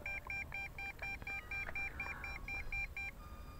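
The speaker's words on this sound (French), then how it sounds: "c'est la télécommande qui bip, qui veut dire bah, vous avez perdu la connexion" A drone remote controller (MJX Bugs 8 racing drone) beeps repeatedly after losing connection, a steady, evenly spaced series of short electronic tones over faint background noise.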